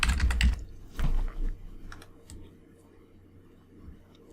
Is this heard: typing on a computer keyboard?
yes